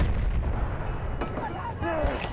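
A heavy, booming grenade blast from the video game Battlefield 1 fills the short moment with dense low rumble and debris, while a player's voice talks over the tail end.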